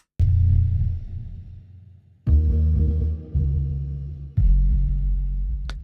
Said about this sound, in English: the audio extracted or split from the original AI generated audio, just the bass part.